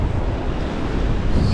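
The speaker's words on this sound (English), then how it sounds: "a lot of water coming in here from that storm" Storm-driven surf rushes and churns on a tropical beach, a loud continuous roar of breaking water mixed with wind buffeting the microphone, no speech.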